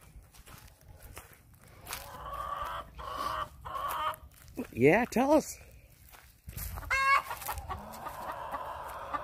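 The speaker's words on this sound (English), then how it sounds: "There's our chickens." Hens cluck and squawk nearby while footsteps crunch along, and a person speaks briefly over the birds.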